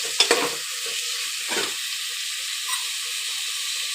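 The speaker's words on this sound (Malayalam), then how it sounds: "നമ്മളൊരു ഗോൾഡൻ ബ്രൗൺ കളറാകുന്നവരെ നന്നായിട്ട് ഇളക്കി കൊടുക്കണം" Onions sauté in a pan for a cooker biryani, a soft steady sizzle with a few light stirring scrapes and clicks early on, then an even hiss.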